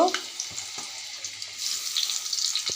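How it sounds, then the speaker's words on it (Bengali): Magur catfish pieces rubbed with turmeric and salt fry in hot oil on a stove, a soft sizzling hiss with a few small clicks that grows louder and denser over the second half, with no talking. "এখন আমি চুলে তেল দিয়ে দিয়েছি এখানে আমি মাছগুলো ভেজে নেব"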